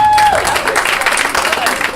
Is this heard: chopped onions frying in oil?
no